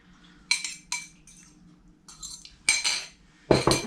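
Two beaten eggs are added to a bread pudding mixture in a bowl, marked by several sharp, close utensil clinks against the dish with short quiet gaps between them and no talking.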